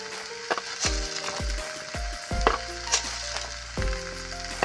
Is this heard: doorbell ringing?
no